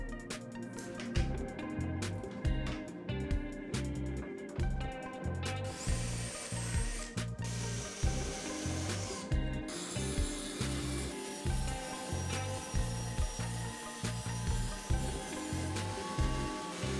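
A power drill drives screws through leftover melamine board pieces into the top of a cheap open wardrobe, running in repeated rhythmic bursts with ratcheting pulses and clicks, close and loud.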